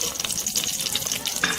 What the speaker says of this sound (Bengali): এখন আমি এটা আস্তে আস্তে করে ভেজে নেব